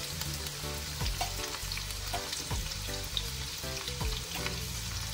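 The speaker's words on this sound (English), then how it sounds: "you can see the onions and the garlic simmering away really nicely" Onions and garlic frying in a pan for a home-cooked dish in Saint Vincent and the Grenadines, a steady close sizzle with rhythmic stirring and scraping knocks through the whole stretch.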